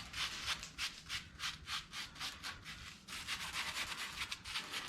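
Small brush scrubbing rust off the rear end of a 1937 International rat rod, a rhythmic series of close, steady scratchy strokes with no talking.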